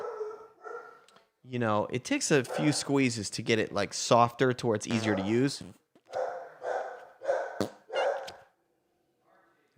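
A pet dog barks and yips in short bursts indoors near a house's front door, close and fairly loud, mixed in with someone talking over it.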